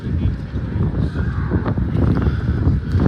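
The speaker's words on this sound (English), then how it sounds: "Oh, it's a bit windy round here as well." Low rumbling wind buffets the microphone continuously at Disneyland Paris, a muffled blustery roar filling the whole stretch.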